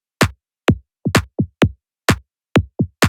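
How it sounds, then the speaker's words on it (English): Two clap samples layered for tech house drums snap out in a sparse groove, bright sharp hits trading with lower, softer claps, close and dry with nothing else playing. "I have opted for two different types of claps and layered them on top of each other."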